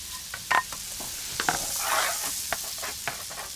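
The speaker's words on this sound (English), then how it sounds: "heat 25 grams of butter in a saucepan. Then add half a large onion" Half a large chopped onion frying in 25 grams of butter in a saucepan for mushroom risotto, a brief close sizzle with a few sharp stirring scrapes.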